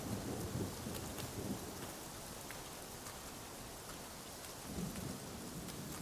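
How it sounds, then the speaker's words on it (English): Steady rainfall with rolling thunder in the video game Rise of the Ronin, a continuous wash of rain with low rumbles swelling near the start and again toward the end, no voices. "Love a good walk in the rain."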